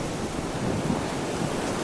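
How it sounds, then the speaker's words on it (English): Strong wind roars and buffets continuously against the microphone on a mountaintop at about 3,800 feet on the Foothills Trail, a loud, unbroken rush with no other sounds. "here we are on top of this mountain, and it's windy"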